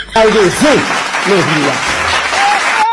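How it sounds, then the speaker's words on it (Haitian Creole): Applause from an audience at a gathering where Prime Minister Ariel Henry is introduced, steady broadband clapping throughout with voices calling out over it. "Applaudis."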